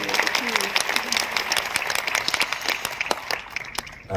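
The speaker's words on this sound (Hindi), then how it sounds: "तालियों के साथ आप अभिनंदन कीजिए" Applause at a state teacher award ceremony as a medal is presented, a dense crowd clapping continuously and fairly loudly, with a faint voice underneath near the start.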